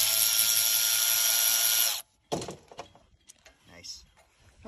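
A Ryobi 3/8-inch cordless ratchet wrench spinning off brake hardware during a pad change, a loud continuous whirring buzz for two seconds that cuts off abruptly, followed by metallic clicks and handling noise with a voice talking.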